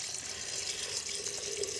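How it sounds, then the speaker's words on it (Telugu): Water streams steadily into a clay pot of chicken curry, a short, close pour with a bright, continuous splashing rush. "కొన్ని నీళ్ళు యాడ్ చేయాలా, కొన్ని నీళ్ళు యాడ్ చేయ మంచిగా పోయి"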